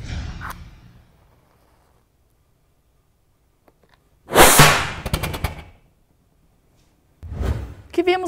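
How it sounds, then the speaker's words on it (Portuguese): An explosion inside a plastic jug during a physics demonstration gives a sudden loud bang that rings briefly and then fades. Another sharp burst follows a few seconds later, with quiet stretches in between. "Teve uma explosão dentro desse galão que foi feita por 3 coisas"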